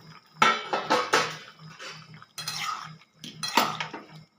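A metal pot lid is lifted off a pot of boiled potatoes on the stove, giving several close clinks and scrapes of metal on metal in short bursts, with no talk.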